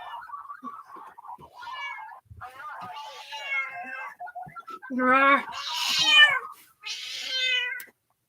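A cat meows repeatedly, a series of drawn-out, rising and falling cries growing louder toward the end, close by with short pauses between calls.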